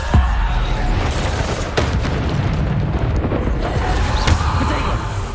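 Bombarda explosion spells in the Hogwarts Legacy video game go off as heavy booms within a dense, loud battle mix, with sharp bursts punctuating continuous rumbling game noise.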